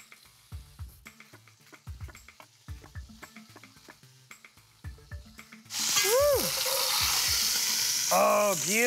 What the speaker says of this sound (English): while my meat is browning